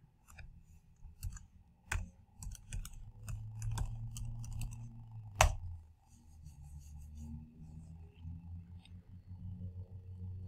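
Typing on a computer keyboard to enter a web address in a browser, heard as irregular close clicks and key taps against a low background rumble.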